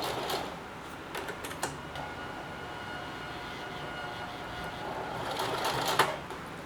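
A brand-new heavy-duty sewing machine runs a few short bursts of stitching up close, a rapid mechanical whir with faint ticks, steady and alone with no voices.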